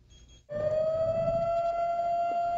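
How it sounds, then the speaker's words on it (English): A loud civil-defense style siren starts abruptly and holds a steady tone, a call to prayer on Shabbos in an Orthodox Jewish neighborhood of Brooklyn, heard over faint street background. "A siren signals a call to prayer on Shabbos"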